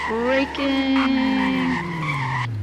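Police car tires skid and squeal under hard braking in the Roblox game Greenville, a sustained loud screech with shifting pitch lasting a couple of seconds, over steady engine noise.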